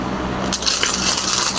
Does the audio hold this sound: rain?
no